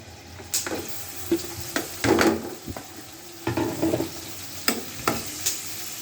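Chopped onion hitting hot oil in a kadai, sizzling and hissing as a spatula scrapes and stirs through it in uneven bursts.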